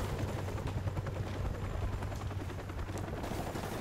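A helicopter in Call of Duty 4 Remastered, its dense rotor thumping loud and continuous, mixed with bursts of gunfire in the game's battle noise.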